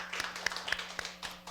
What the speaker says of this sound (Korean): 우리 영광의 박수 한번 올립시다.